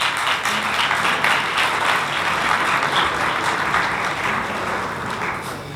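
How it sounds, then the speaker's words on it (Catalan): An audience claps loudly and continuously, a dense wash of applause that holds steady before easing slightly at the end. "Sisplau, rebem a la Georgina amb un fort aplaudiment."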